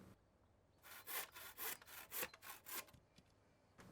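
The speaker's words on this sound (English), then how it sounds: "Cut a piece of batten to go up each doorpost on each end of the tunnel." A handsaw cuts a length of wooden batten while a polytunnel greenhouse is being built: about eight rhythmic rasping strokes, close and fairly loud, with no talk.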